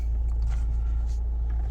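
A 2011 Nissan Qashqai 1.5 dCi diesel engine runs with a steady, deep, low rumble close by, even and unbroken throughout.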